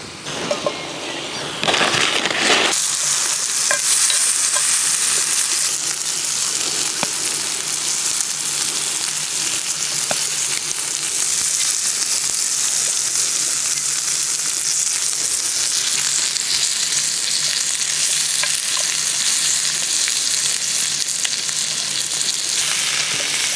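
Bacon frying over an outdoor fire, a loud crackling sizzle that starts abruptly after a short quieter moment and then runs on steadily and close, with occasional pops and no speech.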